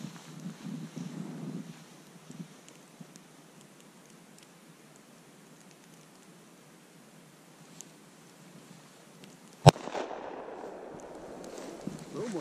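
One gunshot fired outdoors near a creek, coming as a lone sharp, loud crack after a long quiet wait with some wind, then a lingering reverberant tail.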